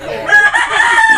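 A Bicolano fighting rooster lets out a single loud, drawn-out crow close by, with no other sounds over it.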